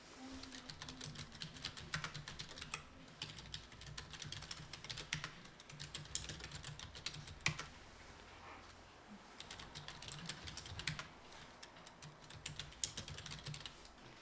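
Rapid, irregular keystrokes on a computer keyboard as text is entered into a spreadsheet cell, close and steady throughout with brief pauses, no voices.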